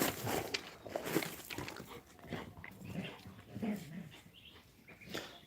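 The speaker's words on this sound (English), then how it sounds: "My dogs are going crazy, man." Several dogs indoors give short excited barks, whines and whimpers in a restless, uneven run, close by and moderately loud, with scuffling movement between the calls.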